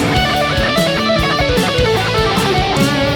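A distorted electric guitar runs through a fast solo phrase, dense rapid notes at a steady loud level, close and alone without any voice.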